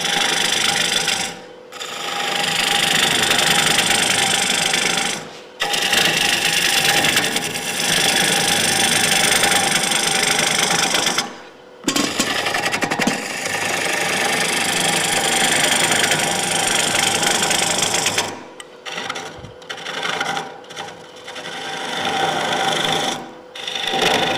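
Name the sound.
wood lathe rough turning a live edge bowl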